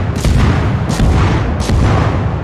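Naval artillery fire in World of Warships: three heavy cannon booms about three-quarters of a second apart, loud and close over a deep continuous rumble, with no talk.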